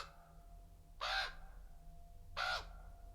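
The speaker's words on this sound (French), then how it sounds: "vous entendez des croassements de corbeaux" Crows passing overhead in the Vercors, two loud harsh caws about a second and a half apart, each short and raspy against a quiet outdoor background.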